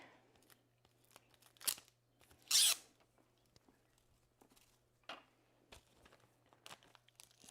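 Plastic bag crinkling and rustling as a finished colored pencil and pan pastel chicken drawing is slipped inside and sealed, with short sharp crackles and one louder burst amid quieter handling noises.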